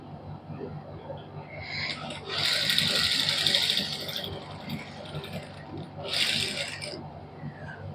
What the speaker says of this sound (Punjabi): ਕਰੀਜ ਦੇ ਬਿਲਕੁਲ ਨਾਲ ਸਿੱਧੀ ਸਿਲਾਈ ਲਾ ਲਾਂਗੇ